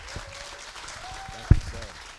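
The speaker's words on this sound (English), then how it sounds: "let's give a round of applause for our mayor of Hampton" Applause for the mayor of Hampton at an LGBT Life Center press conference, a soft, steady patter with voices talking over it and one sharp knock partway through.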